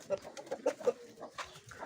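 A pigeon coos in a loft, a few soft rounded calls in quick succession over the first second, close by, followed by quieter rustling and faint background murmur.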